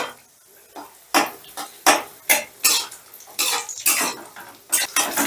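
Cashews and raisins frying in oil in a pan, heard as a series of irregular scraping and clattering stirs of a spoon against the metal over a light sizzle.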